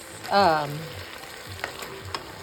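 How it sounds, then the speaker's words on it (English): Chicken sizzling in a hot frying pan, a soft continuous frying hiss with a few light clicks and scrapes, and a short tonal squeal near the start. "Can you hear it sizzling?"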